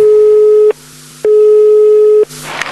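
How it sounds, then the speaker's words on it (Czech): A loud telephone busy signal beeps over the line in a steady on-off pattern, two long tones separated by short gaps, heard close and alone before some noise at the end, in a Czech-language comedy scene. "To zkusím a ty buď na telefonu"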